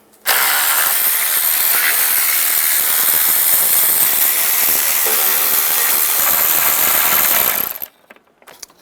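A ratchet with an 8mm socket removes intake bolts on a 2007-18 Jeep Wrangler in one continuous loud, fast whirring burst of nearly eight seconds, close up, then stops abruptly.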